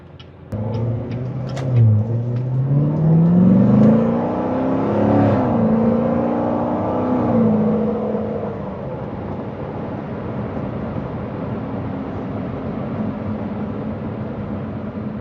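A 2017 Chevrolet Corvette Grand Sport engine revs under way, rising in a strong sweep of pitch over several seconds, then easing back to a steady, quieter cruising drone with road rumble and no speech.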